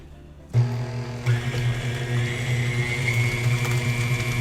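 An electric mixer switches on and whirs steadily as two eggs are blended into Doritos cheesecake batter, the motor pitch climbing slightly and holding with a constant close drone.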